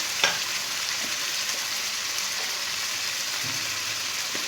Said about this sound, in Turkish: Bir güzel pirincimi de kavuruyorum.